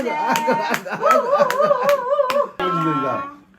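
Family members clap steadily in a regular rhythm at a baby's first birthday party, close and bright, with cheerful voices and singing running alongside.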